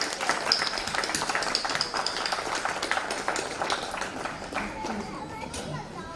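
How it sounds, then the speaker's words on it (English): An audience at a 29th Foundation Day event gives a round of applause as guests come up to the stage, a fairly faint, uneven clapping with crowd chatter mixed in. "requesting everyone to welcome them with a huge round of applause."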